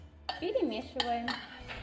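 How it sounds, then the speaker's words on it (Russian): A spoon stirs cut avocado with lemon juice, black pepper and salt in a bowl, giving a few soft clinks and scrapes close by over background music. "Перемешиваем."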